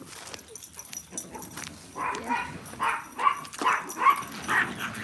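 Dogs playing, one chasing the other over a bone, giving a series of short yips, whines and growly barks that grow more frequent in the second half, fairly close, with a brief voice.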